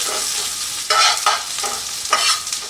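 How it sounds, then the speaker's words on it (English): Onions browning in a pan, a continuous close sizzle broken by about four bursts of stirring scrape, with no voices. "The onions are starting to brown."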